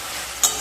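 Potatoes and drumstick pieces stir-fry in spiced masala over medium-low heat, giving a soft continuous sizzle with a single quick scrape of the spoon, heard briefly and up close.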